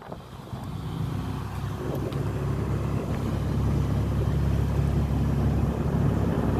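A boat engine drones steadily at low pitch on the Aegean Sea, growing a little louder over the stretch, with water and wind noise around it and no voices.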